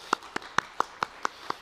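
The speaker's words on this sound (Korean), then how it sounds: "그 하나님께 감사의 박수를 한번 돌리시기 바랍니다" Seven sharp, evenly spaced claps ring out in a church service, close and distinct, like one person clapping in a steady rhythm rather than a full congregation.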